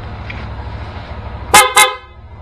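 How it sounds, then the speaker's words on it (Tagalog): Two short, loud honks from a Yamaha NMAX scooter's stock horn, close by, following a quiet stretch with a faint engine hum. "pagganahin pa rin itong stock horn"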